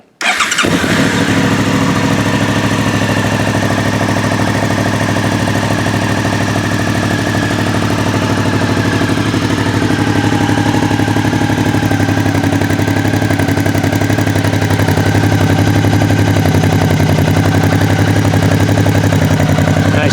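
A 2017+ Suzuki DL-650 motorcycle with an Arrow header and carbon end-cap exhaust cranks and fires up, then settles into a loud, steady, rumbling idle that continues close by.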